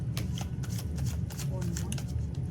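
Tarot cards are shuffled by hand in quick, close riffling bursts, with a voice speaking over the shuffling.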